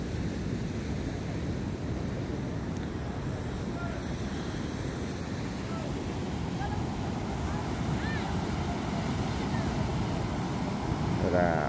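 Heavy surf churns steadily on a beach under Typhoon Quinta's north swell, a continuous low wash mixed with wind buffeting the microphone and rain falling.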